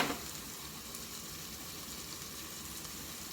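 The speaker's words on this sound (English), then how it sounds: "Fry it in there really well" A soft, steady sizzle of oregano frying with cooked onions in a pan, a faint continuous hiss with no talk over it.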